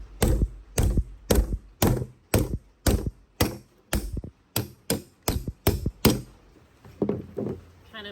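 A plastic piston from a John Deere 650 lawn tractor takes a rapid series of about a dozen sharp, dull hammer blows, evenly spaced and close, each impact deadened rather than ringing, with the strikes getting softer toward the end.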